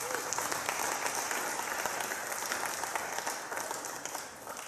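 A church congregation applauds in a dense, steady wash of clapping that fades slightly toward the end.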